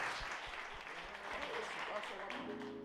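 A church congregation claps through a celebration worship service, a dense, steady patter of many hands filling the room, with voices mixed in underneath.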